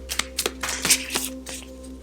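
Tarot cards shuffled by hand, a rapid series of crisp flicking riffles at close range over a faint steady hum.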